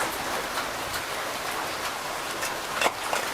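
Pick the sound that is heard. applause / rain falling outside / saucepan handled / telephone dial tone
rain falling outside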